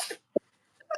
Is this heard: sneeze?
yes